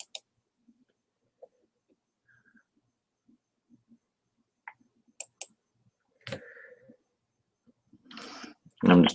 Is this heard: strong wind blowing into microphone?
no